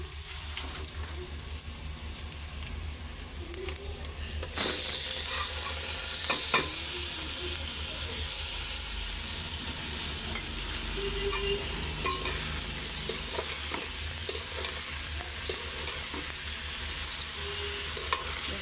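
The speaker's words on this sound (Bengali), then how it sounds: "তো পেঁয়াজটা লাল হয়ে আসছে তো খিচুড়ির চালগুলি আমি এখন দিয়ে দিই" Khichuri rice and lentils fry in hot oil with browned onion inside a rice cooker pot, giving a constant close sizzle broken by repeated scraping stirs of a spoon.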